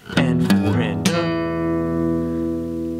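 Electric blues guitar playing a standard shuffle: a few quick picked strums with bright attacks, then one chord left to ring out and sustain, close and clear, with no talking.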